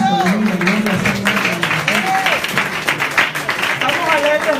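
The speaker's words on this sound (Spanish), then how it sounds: "Denles aplauso al Señor Jesucristo." A church congregation at a Sunday service applauds together, steady clapping under singing or calling voices that carry over it.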